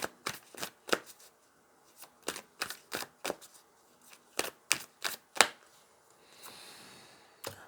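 Tarot cards shuffled in quick riffled bursts, a dozen or so crisp papery flutters and slaps spaced by short pauses, close and clear, ending in a soft sustained rustle.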